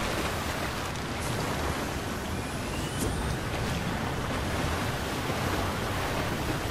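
Fast-moving water rushes in a video game, a continuous broadband roar with no pauses, loud and close, alone without talk.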